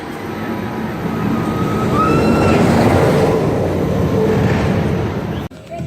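Red Force roller coaster at PortAventura, a loud, continuous roar of the train rushing along the track with faint whistling tones, sustained for about five seconds before cutting off abruptly.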